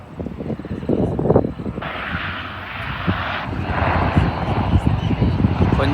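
A small passenger airplane on a New Zealand flight passes at an airport, its engine roaring steadily and growing louder, with wind noise and a crowd of onlookers talking beneath.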